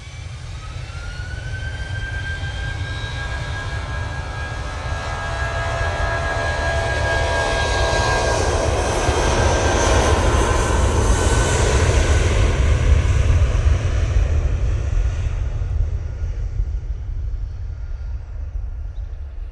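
A Jet2 Airbus A319 jet airliner with overwing exits, its engines roaring steadily for about twenty seconds. The roar builds to a peak midway as the aircraft passes close by, with a faint whine above the deep rumble.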